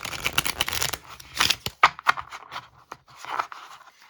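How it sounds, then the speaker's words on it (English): Close, crisp riffling and flicking of tarot cards being shuffled, in irregular bursts with short pauses between them. "Let's shuffle my deck and get us going."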